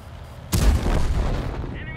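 A single sharp gunshot in a shooter video game, a loud sudden crack at about half a second followed by a booming, rumbling tail that slowly fades, with faint game sounds underneath.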